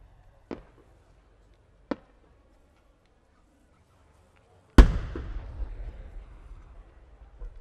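Fireworks at the Omagari All Japan Fireworks Competition 2017 in Japan, by Kikuya Obata: two sharp distant pops come first, then a loud close boom with a long rumbling, crackling tail.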